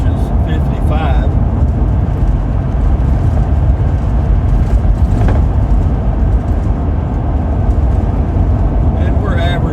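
A vehicle cruising down the road at about 50 mph, its engine and road noise forming a constant loud rumbling drone from inside the cab while someone talks throughout.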